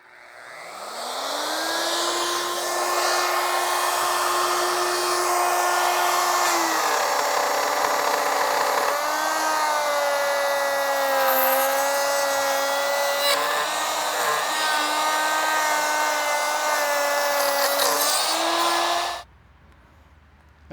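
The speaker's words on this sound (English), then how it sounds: "I'm just gonna get my router, and I'm just gonna route that out." A handheld router cuts a channel into a wooden deck stair rail: the motor whines up to speed, then holds a loud, steady high-pitched roar under load for about seventeen seconds before shutting off abruptly.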